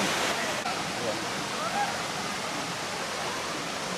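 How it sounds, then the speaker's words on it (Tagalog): Continuous rushing water pours steadily at Paglitaw Spring Resort in the Philippines, a dense broadband roar with no breaks, fairly close. "Yung flow ng tubig."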